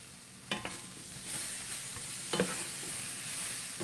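Peaches frying and caramelizing in a pan for a peach and sweet potato salad, a steady close sizzle with two brief louder bursts of spatter, no talk.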